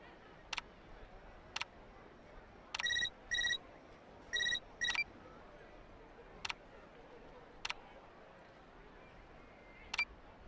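A telephone rings in short electronic bursts, two quick pairs close together, set among sharp isolated clicks and ticks over a faint steady background hiss.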